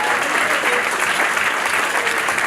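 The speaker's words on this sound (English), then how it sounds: "So give yourselves a great round of applause." Dense, loud applause from a Democratic Party dinner audience, an even roar of clapping that fills the whole short stretch without a break.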